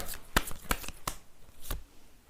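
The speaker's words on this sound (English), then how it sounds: "So I will shuffle some oracle cards for you." Oracle cards being shuffled by hand at close range, a series of crisp riffling snaps and slaps in an uneven rhythm, with quiet gaps between bursts.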